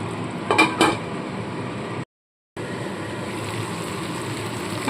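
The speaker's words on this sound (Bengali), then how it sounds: "দিয়ে দেবো এখন ঢাকা চাপা" Metal lid set down on a cooking pot of banana-flower malai kofta curry with cashews, two sharp clanks close together near the start, then the low simmer of the covered pot continues on its own.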